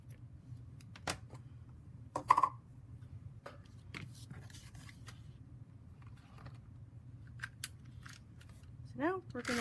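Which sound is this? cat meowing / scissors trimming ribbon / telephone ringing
scissors trimming ribbon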